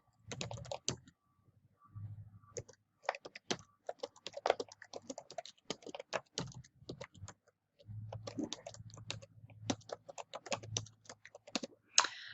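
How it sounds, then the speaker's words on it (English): Fingers type a headline on a computer keyboard in quick bursts of close key clicks, separated by short pauses. "I'm going to type in what I want."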